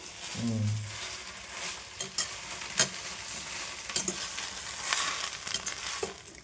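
Dry leaves being stir-fried in a pan for a spice powder, giving steady close-up scraping and rustling with scattered clinks of the spatula against the metal throughout.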